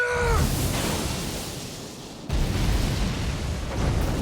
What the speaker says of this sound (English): Prepare for laser barrage.